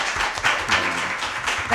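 An audience applauds at a G20-themed diplomacy simulation challenge after results are announced, with dense, continuous clapping from a crowd, steady and moderately loud throughout.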